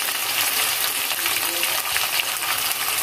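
Ginger, garlic and cumin paste fries in oil for a beef curry, giving off a loud, continuous hiss and crackle that stays even from start to finish.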